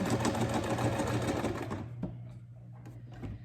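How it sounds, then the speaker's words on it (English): A home sewing machine stitches fabric for a heat pack, its fast steady whirr running loud and close. It then stops, leaving a few faint mechanical clicks. "So you just want to make sure you lock your stitch when you start."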